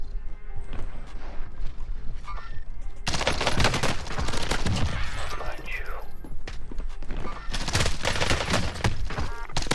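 Gunfire in the shooter game Warzone rattles in dense, loud bursts of rapid shots and fusillades, with a quieter stretch before heavy fire erupts, while voices shout over the noise.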